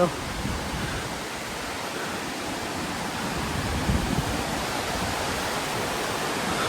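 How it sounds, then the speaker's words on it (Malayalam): Steady roar of Hebbe waterfall in Chikmagalur, water plunging in two tiers, heard from a viewpoint as a continuous broadband rush that stays even and loud throughout, with no voices over it. "രണ്ട് തട്ടായിട്ടാണ് വെള്ളം ചാടണത്"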